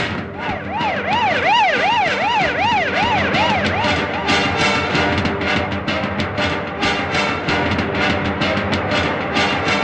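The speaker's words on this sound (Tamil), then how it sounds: "இந்த ஆம்புலன்ஸ் அடிக்கடி வருத." An ambulance siren wails in a rising and falling pattern close by, then shifts to a rapid yelping cycle over traffic noise in a Tamil action film scene.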